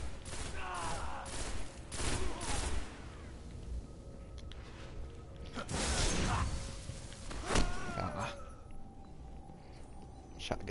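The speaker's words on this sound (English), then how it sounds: "Shotgun from behind." Rapid shotgun blasts crack out during a Destiny PvP match, several sharp bursts spread through a busy mix of whooshes and game effects, fairly loud and close.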